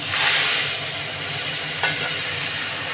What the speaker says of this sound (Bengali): আর এখানে দেখুন সর্ষেটা ছেড়ে দিচ্ছি